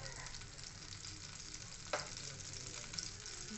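Oil and cumin seeds sizzle in a kadhai, a dense steady crackle and hiss with a brief sharper pop partway through.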